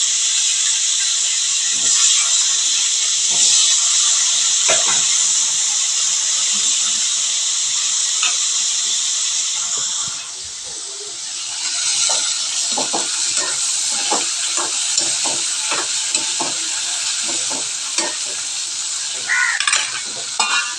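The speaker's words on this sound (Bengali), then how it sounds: "এবার আমি তেলের মধ্যে এগুলোকে ফ্রাই করে ভেজে নেব।" Potatoes with turmeric fry in hot oil, giving a loud, steady sizzle for about twenty seconds. Scattered clicks of stirring run through it, and the hiss briefly softens about halfway before resuming.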